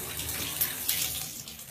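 Tap water runs steadily into a bathroom sink, wetting a cleaning mitt, a soft continuous splash and hiss close by with no talk.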